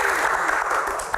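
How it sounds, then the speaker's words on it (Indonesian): A studio audience at an Indonesian Q&A talk show claps for a panelist, a brief burst of dense, steady applause. "tepuk tangan buat Mas Haris"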